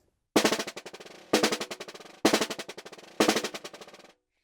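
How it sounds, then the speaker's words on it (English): Snare drum played in four sustained buzz strokes, each lasting just under a second, alternating hands with short gaps between them. The strokes are close and clear, with no talking. "one measure of alternating buzz strokes"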